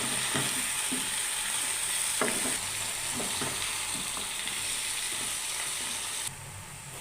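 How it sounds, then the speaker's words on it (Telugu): Bottle gourd pieces frying in a pan for an Andhra-style curry: dense, loud sizzling with intermittent scraping and clattering stirs, close up, the hiss dropping abruptly near the end. "ఇప్పుడు సొరకాయ ముక్కలు వేసుకుంటున్నాను. దీన్ని మొత్తం ఒకసారి కలబెట్టుకోవాలి."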